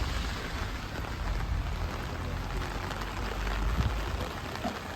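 Steady rain falls in a dense, continuous patter in the village of Ardesio, Italy, close by and fairly loud, with no voices.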